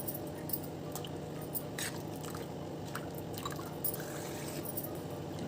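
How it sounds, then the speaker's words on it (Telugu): Water is poured into rava dosa batter in a kitchen, giving a faint, close wet trickle with soft squishy sloshes and a few small clicks, and no voices. "ఇంకా నీళ్ళు పోయాలి."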